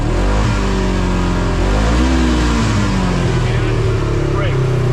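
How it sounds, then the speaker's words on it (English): A Polaris RZR side-by-side engine revs under joystick-controlled throttle, a loud close engine note that climbs and dips throughout. "I'm going to be able to give it throttle"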